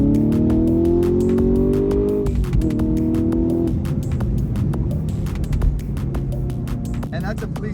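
A Camaro SS 1LE with a Stainless Works axle-back exhaust pulls hard, its loud, steady engine drone climbing in pitch, dropping at a gear change, then droning on continuously.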